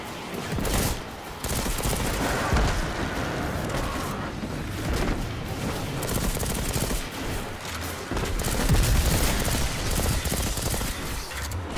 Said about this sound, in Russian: Нифига себе он там стреляет. Это кто там так стреляет?